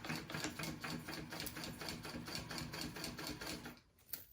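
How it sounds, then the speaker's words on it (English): A sewing machine top stitches a piece of fabric in a steady, rapid run for about four seconds, then stops abruptly with a brief clunk. "I'm just top stitching this piece on now."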